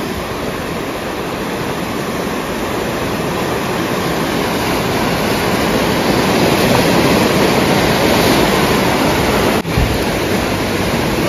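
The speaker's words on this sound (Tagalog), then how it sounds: "Grabe ang tubig oh. Taas na ng tubig oh." Floodwater risen high after days of rain rushes in a loud, constant roar close by, a steady broadband wash that never lets up.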